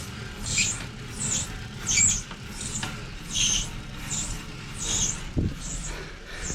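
Bald rear wheel slipping on an indoor bike trainer: a regular, repeating squeak-and-rub pulse about once a second, steady and moderately loud, with one dull knock partway through.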